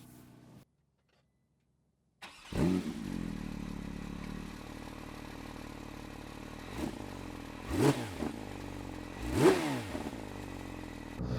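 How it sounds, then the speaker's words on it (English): A Porsche 911 S/T sports car engine starts up after a short silence, then idles with a rough, throaty burble, blipping the throttle in a few sharp revs. "the first thing you'll see, or hear in fact, is the sound of the engines"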